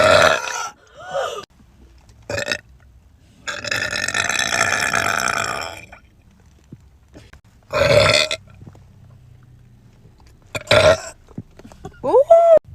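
A woman lets out several long, loud, drawn-out burps after drinking, separated by pauses, with bursts of laughing and talking between them.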